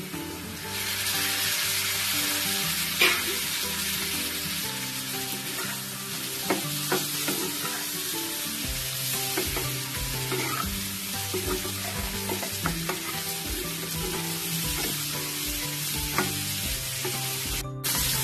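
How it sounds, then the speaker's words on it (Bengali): Pre-fried prawns tossed into a pan for butter garlic prawns crackle and sizzle continuously, with occasional clinks of stirring against the pan over a steady low hum, and nobody speaking. "ভেজে রাখা চিংড়ি মাছগুলো দিয়ে দিচ্ছি।"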